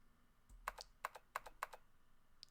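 Computer keyboard keys are tapped in the Zero Escape: 999 video game, four quick bright clicks in an even rhythm followed by one lighter tap, quiet and close with nothing else over them.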